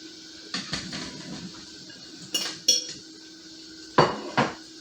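Cauliflower pieces dropping into a pot for a Velveeta cheese vegetable casserole, with a few sharp clanks of metal pot and utensils in quick bursts, close and fairly loud against a quiet kitchen background.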